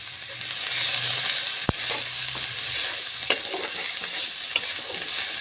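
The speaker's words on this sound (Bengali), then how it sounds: "মশলা আমাদের সুন্দর করে আদা পেঁয়াজ রসুন ভাজা ভাজা করা হয়ে গিয়েছে।" Ginger, onion and garlic masala frying in a pan, a dense continuous sizzle with the scrape and clack of a spatula stirring, including one sharp knock against the pan early on.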